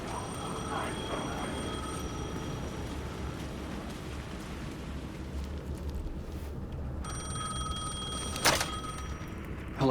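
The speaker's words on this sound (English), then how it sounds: "The phone was ringing again." Telephone ringing in the video game Alan Wake 2, a tonal bell ring at the start and again near the end over rain-like background noise, moderately quiet with no talk.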